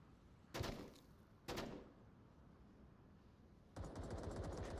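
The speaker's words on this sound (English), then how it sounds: "a couple different types of gunfire down the range" Gunfire down the range in a competitive VR shooter match: three separate bursts, two short sharp volleys followed by a longer sustained rattle of rapid shots, fairly distant, with no talk over them.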